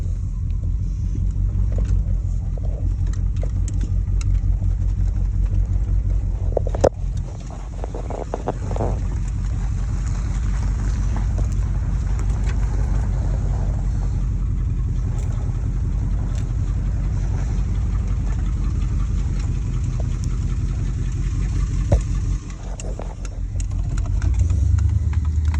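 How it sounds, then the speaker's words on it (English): A car low on power steering fluid cruises eastbound on Highway 180, with a loud, steady low engine and road rumble throughout and a few brief knocks and clunks, no voices. "Hear that sound, the low power steering fluid sound."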